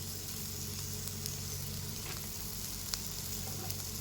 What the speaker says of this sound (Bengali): দিয়ে দেবো স্বাদ মতো লবণ একটু জল দিয়ে আমি মশলাটাকে ভালো করে কষিয়ে নেবো